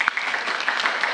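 An audience applauds Marta at a Filecoin talk: a continuous patter of many hands clapping, moderately loud and fairly even, with a sharp clap standing out near the start.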